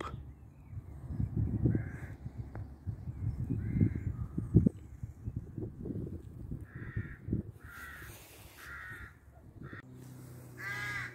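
Several crows caw in repeated harsh bursts around a hilltop lookout called the Lump above Portree on the Isle of Skye, loud and close over wind and low rumbling, with calls clustering toward the end.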